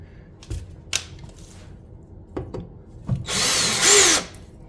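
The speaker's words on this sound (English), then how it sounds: "First, I'm gonna have to back that screw out a little bit." Cordless power drill backing a screw out during a kitchen backsplash install, a couple of short taps and handling knocks followed by a loud, close whirring burst of about a second.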